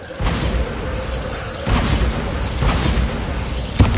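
Bombarda spell blasts in Hogwarts Legacy, a fantasy video game, landing as repeated broad booming explosions at a steady loud level, with a sharp burst near the end.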